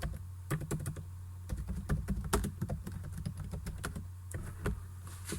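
Someone types steadily on a computer keyboard during an online English class. The keystrokes are close and irregular, come in quick bursts, and sound over a low steady hum with no talking.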